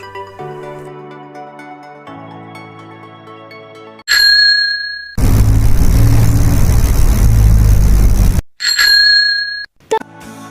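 A bicycle bell rings out in a few bright, sharp dings, separated by a burst of loud noise and brief pauses.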